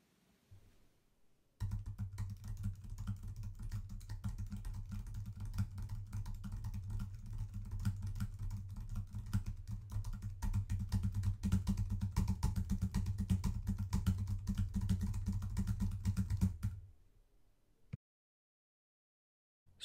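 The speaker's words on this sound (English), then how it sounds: "tapping on a regular keyboard and recording on Audacity" Fingers tap steadily on a regular computer keyboard for about fifteen seconds, a dense run of soft close clicks over a low vibrating rumble, then it stops into silence.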